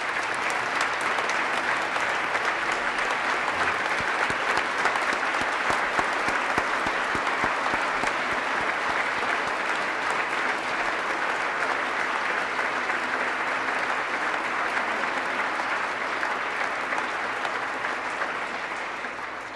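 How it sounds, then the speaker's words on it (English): A sustained round of applause in the Minnesota House chamber for a chief clerk retiring after more than 40 years of service: dense, steady clapping from a large room that holds evenly for nearly twenty seconds. "So let's give him a round of applause as well."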